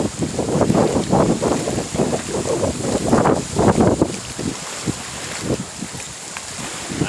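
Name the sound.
strong wind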